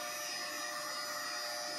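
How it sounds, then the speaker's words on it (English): A hair dryer on medium setting blows steadily to shrink-wrap a battery cell, a constant close whirring hiss with a faint tonal whine running unchanged throughout. "Using hair dryer,"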